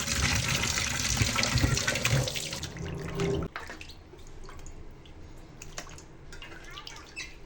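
Goat meat washed under a running kitchen tap gives a loud gush of water for about three seconds, which cuts off abruptly and leaves quieter drips, splashes and handling noises.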